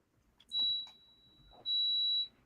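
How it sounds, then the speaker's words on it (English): Two electronic beeps from a smoke-alarm-like device, each a steady high-pitched tone lasting about half a second, sounding in a quiet room with faint background murmur. "She's wondering what that beeping sound is."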